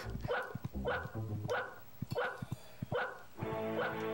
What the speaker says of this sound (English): I got this cool dog sound button.